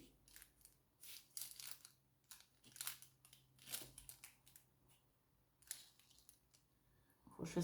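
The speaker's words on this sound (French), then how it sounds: "Et je vais faire une petite coupe ici." Scissors snip a small cut into craft material at a close-up crafting table, a series of quiet, irregular crisp snips and rustles, with no talking.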